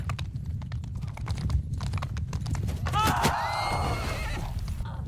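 Horse archer cavalry in a video game clop along in a quick hoof rhythm, and a sharp neigh breaks out partway through, with game sounds running beneath.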